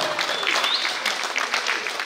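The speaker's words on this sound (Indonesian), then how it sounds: "Ya, tepuk tangan semua" Audience clapping at an intercultural student camp in Makassar, a short steady burst of many hands over the whole stretch, with faint voices beneath.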